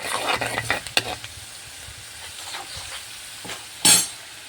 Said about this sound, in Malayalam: നമ്മുടെ വെളുത്തുള്ളി ഇഞ്ചിയും കൂടിയൊക്കെ നല്ലപോലെ മൂത്ത് വരുന്നുണ്ട്